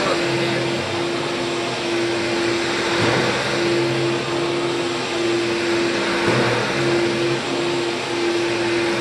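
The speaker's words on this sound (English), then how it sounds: "going to pre-vacuum with the 8850" A Rainbow-era 8850 vacuum cleaner pre-vacuums carpet with a loud, steady motor whine and airflow roar, the pitch dipping slightly as the head pushes across the pile, with no talk.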